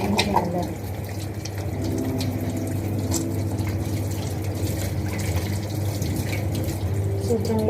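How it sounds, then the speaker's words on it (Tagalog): Tap water runs steadily as hands are washed at a sink in a nature-side cafe in Bali, a continuous close splashing with faint drips and murmuring in the background. "Guys, let's wash our hands."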